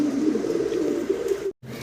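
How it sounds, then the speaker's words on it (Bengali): Pakistani khaki pigeons coo in a low, continuous throaty murmur, close and fairly loud, cut off by a brief silent gap near the end before resuming. "মাত্র 1800 টাকায় পাচ্ছেন চমৎকার এই কবুতরগুলো"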